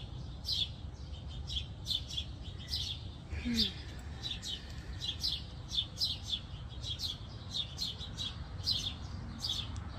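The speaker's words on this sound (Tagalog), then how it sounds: "Saan kaya yan nagpupunta na yung mga ibon na yan?" Many small birds chirp in quick, overlapping bursts throughout, bright and busy, with a faint low background hum.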